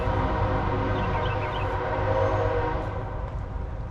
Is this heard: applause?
no